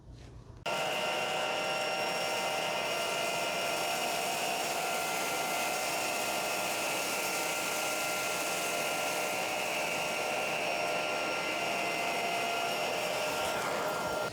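Bissell and Shark Navigator vacuum cleaners run over hardwood floors, a loud, steady motor whine and airflow roar that starts abruptly and holds unbroken for the rest of the clip.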